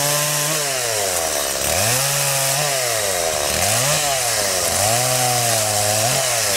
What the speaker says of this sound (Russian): Чурки пилят сразу, а Степа складывает дрова.